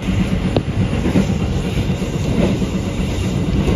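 Steady rumble and rhythmic clatter inside a carriage of the KA Taksaka passenger train running toward Purwokerto in Indonesia, loud and continuous with faint wheel clicks and no talk.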